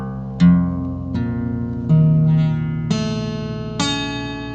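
Guitar in P4 tuning, single strings plucked one after another, each note ringing out and decaying before the next, five clear separate tones, close and alone.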